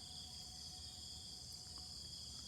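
Insects chirp steadily in morning countryside beside vegetable plots of eggplant and papaya and rice fields, a continuous high shrill drone with faint trilling, moderately quiet and unbroken throughout.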